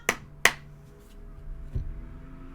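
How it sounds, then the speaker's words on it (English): Two sharp knocks on a deck of playing cards during a shuffle-and-cut card routine, close and crisp with a quiet pause between them, then a fainter soft tap and low room noise. "And a knock, knock, knock."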